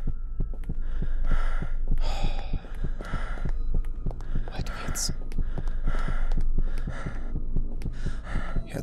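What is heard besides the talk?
heartbeat sound in indie horror video game Fibrillation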